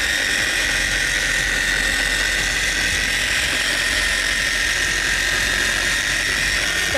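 A Mothers Wax Attack polisher runs steadily on car paint, a loud, even, high-pitched electric whine and buzz that holds without a break at close range, with no talking.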